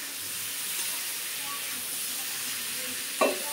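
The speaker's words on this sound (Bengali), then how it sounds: "এখন পনির আর বড়িগুলো দিয়ে দেব, একসঙ্গে কষিয়ে নিই" Paneer and bori sautéing together in a pan with cauliflower and potato, a steady close sizzle of frying with faint stirring and one short clatter near the end.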